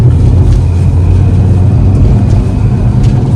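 Maruti Ignis 2023 car driving over bumps, heard from inside as a loud steady low road and engine rumble with faint thuds from the suspension.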